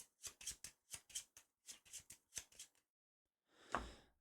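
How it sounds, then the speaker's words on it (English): A deck of game cards for a Spider-Man versus Sinister Six tabletop session is shuffled in a quick run of crisp riffling bursts, close and fairly quiet, followed by a short pause and one louder card clack, with no talk. "Let's shuffle this up."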